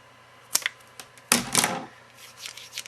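Sharp snips as leftover material is clipped off while building a homemade pen gun, a few crisp clicks followed by a brief scraping cluster, close and quiet.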